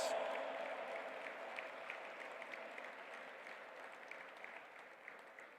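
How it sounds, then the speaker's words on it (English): A large audience at the G20 Interfaith Summit in the World Peace Dome stands and applauds a speaker, a full, continuous wash of clapping with faint crowd murmur, gradually fading. "A big round of applause, my friends."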